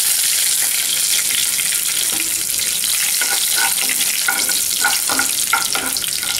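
Curry leaves fry in hot oil for lemon pickle, a loud, steady hiss and crackle with bursts of sharper spattering pops in the second half, no voices.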